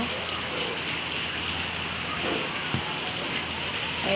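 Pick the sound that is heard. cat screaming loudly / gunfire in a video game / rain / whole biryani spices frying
rain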